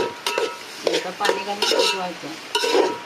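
Banana flower and chickpea mixture being sautéed in a pan, with a few short bursts of stirring and scraping over a light sizzle, close and fairly loud, no talking.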